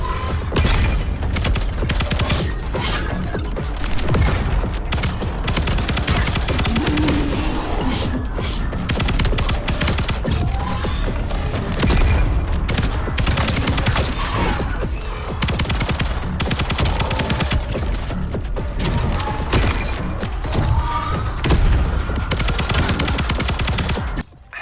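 Continuous rapid gunfire fills the Void/Breaker video game, dense bursts of automatic shots with booms and mechanical clatter layered over a constant loud roar, with no pauses.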